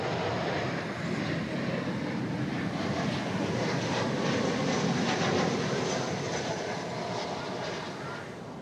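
Boeing 737-900 jet airliner passing at DFW Airport, a steady loud broadband engine roar sustained throughout and easing slightly toward the end.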